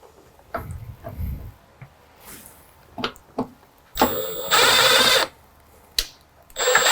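A power drill drives a screw to mount an LED front blinker on a metal plate on a Ford Maverick. Scattered handling clicks and knocks come first, then one loud, close whirring burst of under a second, followed by more clatter.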